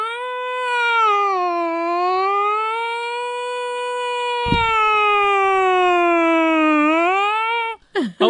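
A man imitates a siren with his voice, a loud, sustained, rising and falling wail that holds for nearly eight seconds and then breaks off abruptly.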